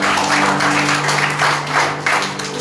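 Church congregation clapping together in praise during a joyful sermon, a steady loud wash of applause with sustained musical tones underneath.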